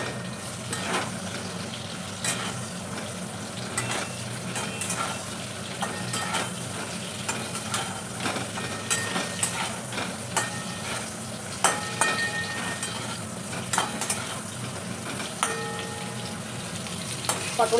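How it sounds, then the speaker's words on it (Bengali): Tender pointed gourd frying in oil after fish, with a soft continuous sizzle broken by the scrape and clink of a spatula stirring in the pan, close and moderately quiet, with no talking. "এবার আমি এই তেলটার মধ্যে পটলগুলো ভেজে নেব।"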